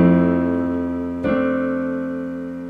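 Left-hand piano chords, two sustained low chords struck a little over a second apart, ringing out clearly and alone as they slowly fade.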